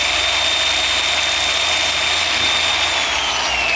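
A car hardtop is sanded with 80-grit sandpaper, apparently by power tool, producing a loud, steady, continuous whirring grind with a high whine throughout.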